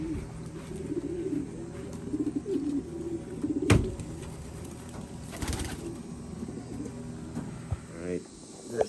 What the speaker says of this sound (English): All right, there's some more birds.